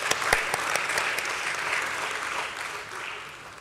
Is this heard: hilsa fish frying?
no